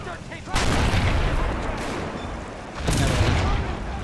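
Tank cannon fire in the World War II strategy game Men of War: Assault Squad 2, two loud booming salvos mixed with rattling gunfire, one early and one near the end, with a voice faintly underneath.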